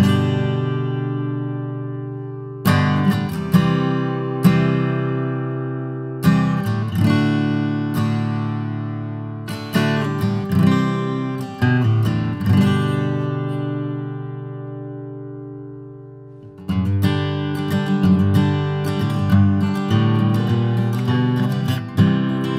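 A Martin GPC-11E and a Taylor 314ce acoustic guitar play the same passage in turn, with strummed chords and picked notes ringing close and full, separated by short pauses; no one speaks.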